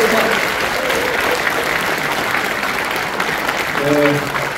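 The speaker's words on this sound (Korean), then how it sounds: "큰 격려의 박수 부탁드렸습니다." Sustained applause from a large crowd at a Democratic Party members' rally fills the clip, loud and even, with a brief voice surfacing near the end.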